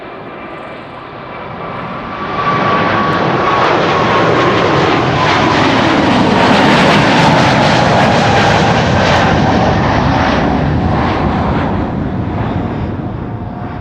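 A KLM Boeing 777-300 jet airliner takes off at Amsterdam Schiphol, its engines roaring loud and steady, swelling after a couple of seconds and holding a broad sustained rumble with a whining tone throughout.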